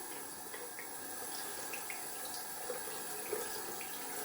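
Water running to rinse shaving soap out of a shaving tub, a soft steady flow with faint splashes and drips, quiet and close, no talking.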